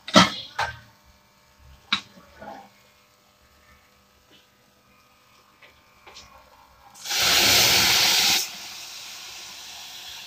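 Water poured into a hot pan of zero-oil fish and vegetable stew sends up a loud, broad hiss of steam lasting over a second, preceded by a few scattered utensil clicks in a quiet room.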